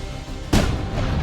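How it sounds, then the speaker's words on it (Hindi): A cannon fires a cannonball at bulletproof glass: one sharp, loud blast rings out after a quiet lead-in, followed by a sustained rumbling tail. "नहीं, ये कैनन है।"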